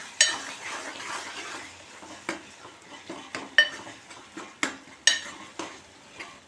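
Fenugreek tomato curry stirred in a pan: repeated sharp scrapes and clinks of a spoon against the metal pan, irregular and close, over a soft background sizzle.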